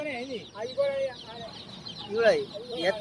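Colourful chicks for sale at a market in Nalgonda cluck and chirp in short, irregular calls close by, mixed with a few people talking in the background.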